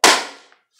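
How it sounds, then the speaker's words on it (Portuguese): One hard hand slap on a stack of homemade trading cards in a bafo flipping game, a loud sharp crack that rings out and fades, followed by two faint light ticks. "isso que vocês acabaram de ver aí era eu batendo bafo, virando todas essas figurinhas aqui que eu fiz"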